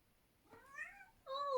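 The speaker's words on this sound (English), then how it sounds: "if you can hear the cats in the background" Pet cats meow faintly in a quiet room, two rising plaintive calls a moment apart, the second slightly louder and closer.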